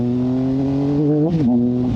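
A motorcycle engine idles close by, a steady low rumble with a smooth, even beat and a brief wobble in pitch partway through before it settles back to idle.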